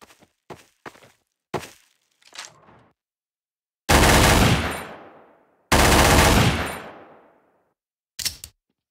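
In a video game, a P228 pistol fires a few sharp reports, then two long, booming blasts with decaying tails, and a final short shot, with silent gaps between them.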